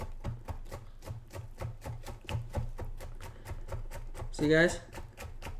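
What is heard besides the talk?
knife slicing produce into small pieces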